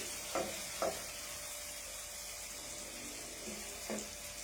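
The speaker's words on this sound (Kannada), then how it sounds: "ಇದು ಲೈಟ್ ಬ್ರೌನ್ ಆಗೋ ತನಕ ನೀಟಾಗಿ ಫ್ರೈ ಆಗಲಿ." Banana slices fry in a pan with a steady, close sizzle and hiss. A few soft clunks from stirring break through the sizzle.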